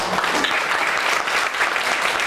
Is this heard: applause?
yes